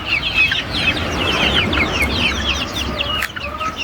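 Several chickens cluck and chatter close by, a busy overlapping flock sound with steady low background noise.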